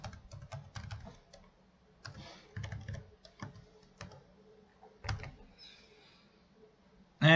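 Quick bursts of typing on a computer keyboard, close and fairly quiet, with light clustered key clicks and short pauses between runs.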